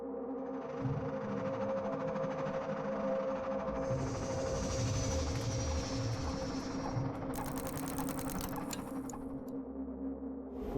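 A train pulls into Gare d'Austerlitz in Paris with a continuous, close rumble and clatter, overlaid by a long high metallic squeal and some sharp hissing toward the end; no one speaks.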